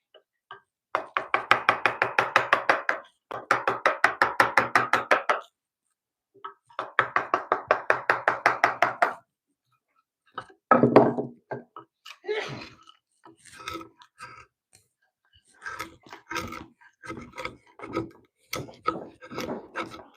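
Hand work on a steel chisel in a home workshop: three long rhythmic rasping strokes, each a steady back-and-forth run, followed by scattered softer scrapes and taps, close and moderately loud with no voices.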